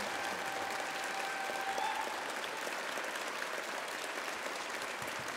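A hall audience keeps clapping for the orchestra and choir at a Baldur's Gate 3 and Divinity: Original Sin 2 symphony concert, with steady, full applause that continues evenly for several seconds.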